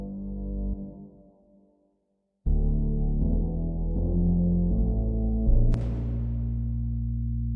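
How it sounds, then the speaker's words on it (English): In a hip-hop beat remaking a song, a VW bass synth is layered with a dub bass synth, giving a thick, loud, sustained low drone that drops out briefly, then returns with a bright crash-like burst near the end. "And then with the dub bass, it sounds like this."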